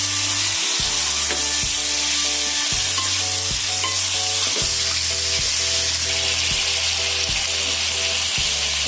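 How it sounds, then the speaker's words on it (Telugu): Marinated chicken fries in a pan for a homestyle chicken gravy curry, a constant loud sizzle with regular scraping strokes of a stirring spoon roughly every second throughout. "ఇప్పుడు ఇందులో కలిపి పెట్టుకున్న చికెన్ని యాడ్ చేయాలి. బాగా మిక్స్ చేసుకోవాలి."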